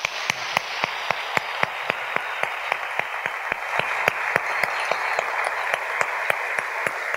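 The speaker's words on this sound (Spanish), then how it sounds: "Démosles un fuerte aplauso a todos ellos" Applause for church volunteers at a thanksgiving service: steady, dense clapping with sharp, regularly spaced loud claps standing out above the crowd's sound for the whole stretch.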